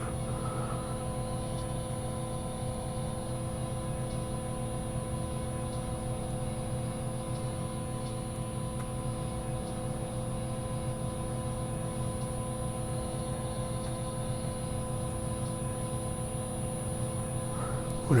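Helicopter engine in Microsoft Flight Simulator 2020 holds a steady droning whine with layered humming tones, continuous and unchanging, heard from inside the cockpit.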